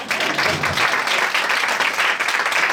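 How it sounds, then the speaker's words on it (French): An audience claps steadily for a young girl on stage at a children's musical comedy show. The applause is dense and even, fairly close, with a voice faintly mixed in. "On applaudit Lisa."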